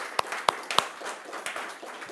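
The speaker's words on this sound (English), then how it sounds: "let's give him a good round of applause." Sparse audience clapping for a speaker at an academic ethics conference: a handful of distinct, sharp claps spaced out over two seconds, thin and scattered rather than a full ovation.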